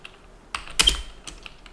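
Several keys are struck on a computer keyboard while a prompt is typed, a few sharp close clicks spread across under two seconds with one louder cluster in the middle.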